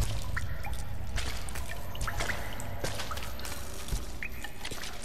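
Water drips steadily in damp catacombs in Tomb Raider 2013, scattered plinks and drops falling irregularly over a loud, constant watery wash that fills the background.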